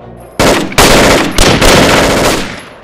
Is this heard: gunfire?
yes